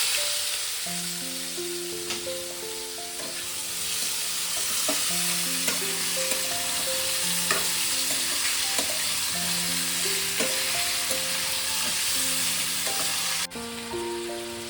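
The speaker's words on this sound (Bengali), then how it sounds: "এবার আমি চাল কুমড়োটা একটু ভেজে নেবো হালকা করে।" Ripe ash gourd pieces frying lightly in oil, a continuous sizzle with occasional stirring clicks, heard under a steady melodic background tune throughout.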